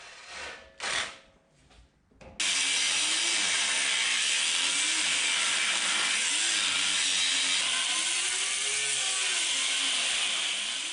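A hand saw, either a reciprocating saw or a manual hacksaw, cuts through a weld where a round tube meets a square tube on a 4-door Jeep rock slider. A few loose scrapes come first, then loud, continuous rasping close up, with no talking.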